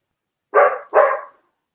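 A dog gives two loud, close barks in quick succession, the second slightly longer, then falls silent.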